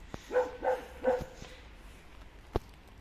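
A dog barks at a cat three times in quick succession at moderate distance, followed by a pause and one more short sharp bark.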